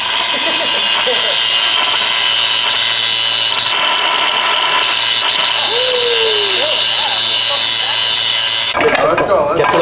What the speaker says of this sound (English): Alright, get the grinder.